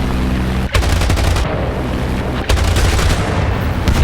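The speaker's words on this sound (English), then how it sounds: "we can just let loose with all the guns." Aircraft guns fire in sustained loud bursts in a dogfight in a flight simulator game against a Zero, with two long rattling volleys split by a brief gap.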